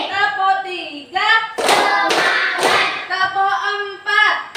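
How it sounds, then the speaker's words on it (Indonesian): A class of children claps hands in unison during a counted clapping routine in a classroom lesson, with bursts of claps between voices chanting the count. "Kita lakukan tepuk 1 sampai 5."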